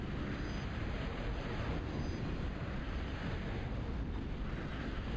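Aircraft units in Total Annihilation drone in a steady, fairly faint engine roar with a broad rushing wash and no talk.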